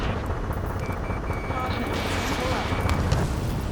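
Ace Combat 7 video game battle over a city under martial law, with dense rumbling gunfire and a continuous roaring jet engine drone under a faint high whine, loud and sustained.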